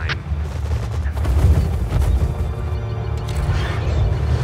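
Heavy cannon fire in Command & Conquer Red Alert 3, a dense run of loud booming blasts and rumbling impacts with no pause between them.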